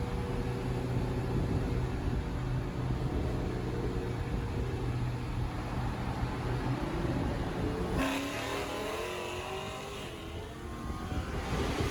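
A Dodge Hellcat accelerating hard on a highway, a loud, steady engine roar heard from inside the car, with a shift and rising revs near the end.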